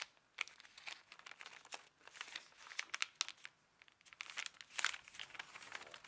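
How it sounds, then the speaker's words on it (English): Paper being scrunched on a pop-up Easter bunny card, with close, crisp crinkling and crackling in irregular bursts throughout, quiet and without talk. "that's about as clean as it can be as I scrunch the paper here"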